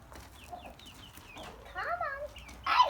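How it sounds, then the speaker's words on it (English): Five young chicks outdoors chirp in a run of short, high cheeps that cluster and overlap, fairly close, with a louder burst near the end. "Today we are taking the 5 chicks outside and letting them investigate."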